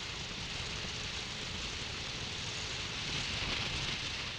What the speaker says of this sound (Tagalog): Grabe kalakas ng hangin pa.